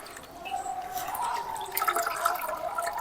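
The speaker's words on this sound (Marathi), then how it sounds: "आता आपण पाण्याने स्वच्छ धुवून घेऊ." Soaked jowar grain rinsed in water, a close trickling, dripping wash with soft splashes that holds steady throughout.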